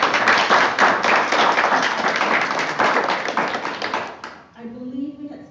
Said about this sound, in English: so a round of applause to the kids